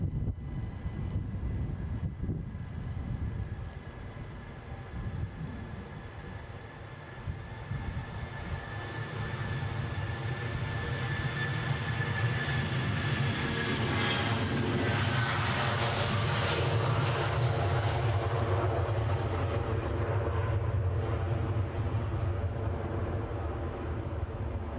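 A jet airliner takes off from Edinburgh Airport, a loud sustained engine roar that builds and swells past the middle, with a rising whine over deep rumble and wind buffeting, no talk.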